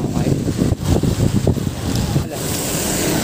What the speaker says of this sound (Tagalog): So, malakas pa rin yung hangin at saka ulan dito.